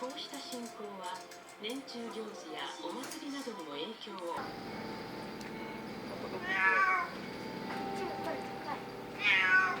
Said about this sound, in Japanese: 今の猫も声がでかったね。